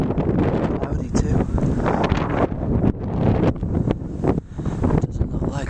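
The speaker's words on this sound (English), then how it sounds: "Kind of windy today." Gusty wind on a cloudy walk near Elterwater buffets the microphone in loud, uneven rumbling bursts, with no clear talking.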